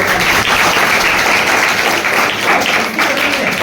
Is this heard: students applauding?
yes